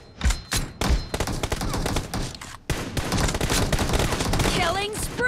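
Video game gunfire during a team match: dense, rapid bursts of automatic shots and thumps keep going almost without a break, loud and close, with brief game voice callouts mixed in.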